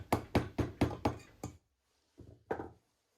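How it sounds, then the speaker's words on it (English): A rubber mallet taps apart the crankcases of a Kawasaki KDX200A motorcycle engine: six quick, evenly spaced dull knocks, a short pause, then two more softer taps, close and alone. "I tap the crankcases apart with my rubber mallet"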